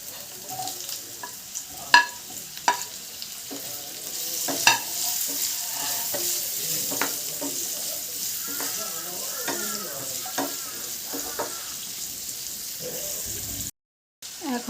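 Chopped green chilli and capsicum stir-fry for chilli chicken, a continuous close sizzle with repeated scraping and clattering from a utensil moving through the pan, and a brief drop to silence near the end.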